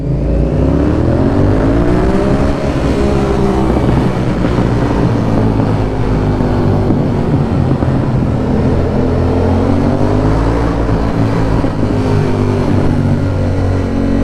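Motorcycle engine revving hard on an early-morning mountain ride in Colorado, loud and close, rising and falling through repeated throttle blips with a steady roar of wind and exhaust throughout.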